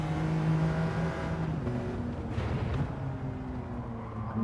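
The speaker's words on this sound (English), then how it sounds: "the naturally aspirated 3-liter inline 6-cylinder in this would have a great sound to it" A naturally aspirated 3-liter inline-six engine in a racing game hums steadily with a smooth harmonic drone, its pitch shifting slightly as the car accelerates and lifts.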